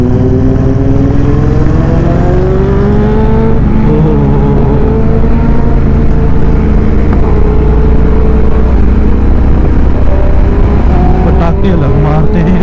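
A Royal Enfield Interceptor 650 motorcycle engine drones loud and close on a Sunday mountain ride, its pitch rising and falling with throttle changes, with a few sharp pops near the end.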